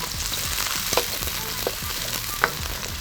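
Onions fry in garlic oil in a wok, a steady close sizzle with a few sharp spatula clicks and scrapes, no talking.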